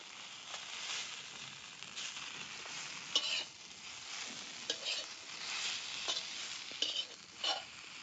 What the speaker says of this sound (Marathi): आता त्या कांद्यात टमाटे बी चांगलं भाजून घेतलं, खोबरं टाकून घेते खिसल्याला